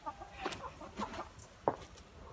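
Chickens clucking around a backyard chicken coop, a few short soft clucks spaced across the moment, fairly quiet and close with faint background.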